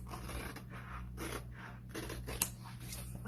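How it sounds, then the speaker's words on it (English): Scissors cutting a 12 by 18 inch transfer sheet into pieces, faint close rhythmic snipping and scraping strokes in quick succession, no speech. "now I'm cutting this 12 by 18 inch transfer into 6 different pieces, just cutting across the cut lines"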